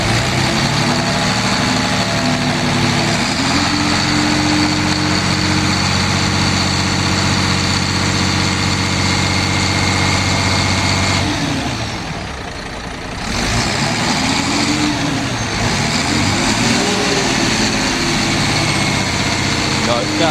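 A Mercedes Econic truck's diesel engine, being checked for a fuel supply fault, runs and revs with a loud, steady droning hum and rising tones, briefly dipping midway before picking back up.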